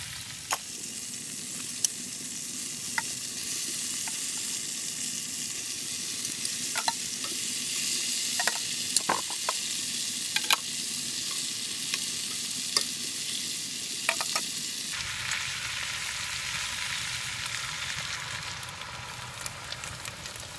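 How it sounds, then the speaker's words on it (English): Brats, beer and vegetables braise on a Big Green Egg ceramic grill, giving a steady, broad sizzle with scattered pops and crackles; partway through the sizzle drops to a softer, quieter bubbling hiss. "We're going to braise the meat and the beer and the vegetables."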